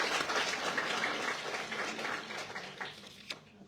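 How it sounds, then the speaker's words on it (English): Pageant audience clapping for a contestant, a moderate burst of applause from a crowd that tapers off with a last few claps near the end. "Please give Miss Space another round of applause."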